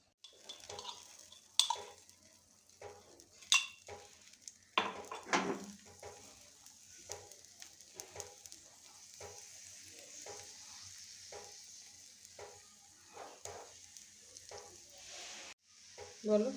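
Egg and semolina batter for paratha fries in a hot pan with a soft, continuous sizzle, broken by clinks and scrapes of a utensil against the pan.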